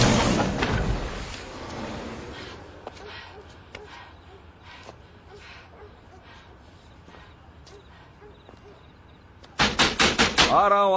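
Someone knocks on a door in a movie scene, tapping lightly at a steady pace with a voice early on, then breaking into a burst of loud, heavy pounding at the end.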